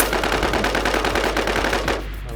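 Rapid automatic gunfire from the shooting game Infestation: The New Z, a dense stream of shots that stops abruptly near the end, leaving a low steady hum.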